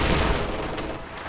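Machine gun suppressing fire in Company of Heroes 2, a dense, loud rattling burst of rapid shots that fills the brief moment from start to finish.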